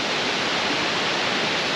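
The Ouzoud waterfalls in Morocco roar as a loud, dense, continuous rush of falling water, steady and unbroken throughout, with no voices above it.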